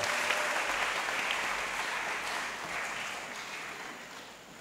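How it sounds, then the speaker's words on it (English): Applause from an audience at a memorial lecture as the committee chair comes to the stage, a steady, fairly distant wash of clapping that gradually fades over a few seconds. "A round of applause as he comes"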